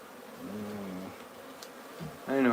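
Wild bees buzz in a steady, close drone around a hive being moved to a new home, their hum rising and falling as insects pass near, with a brief voice-like burst at the end.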